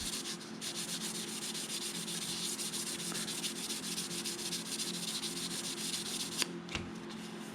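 Sandpaper rubs steadily by hand across a wooden surface coated with UV curable grain filler, a continuous close scratchy hiss with faint rhythmic strokes and no talking.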